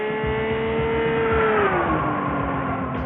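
A car under full throttle, its engine note holding a strong sustained tone that sweeps downward partway through, loud and close with a rough low pulsing underneath.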